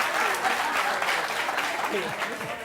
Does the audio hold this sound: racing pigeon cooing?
no